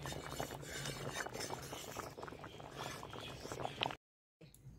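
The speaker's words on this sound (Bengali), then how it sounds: "টকবক করে ফুটছে," Homemade tomato sauce bubbles as it boils in a pot, a busy close mix of popping and small clinks that cuts out abruptly near the end, with no talking.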